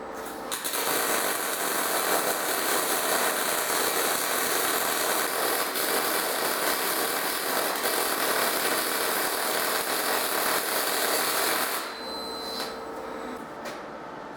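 Stainless steel caps being welded onto a pipe while it turns in an old Southbend lathe: a continuous crackling, buzzing hiss with a steady mechanical hum, running for about twelve seconds before cutting off to quieter machine noise.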